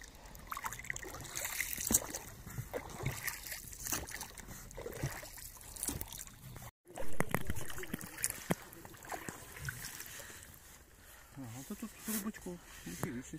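Paddles dip and splash in the Oskol River as a boat moves along, with soft sloshing and dribbling, while people talk nearby throughout.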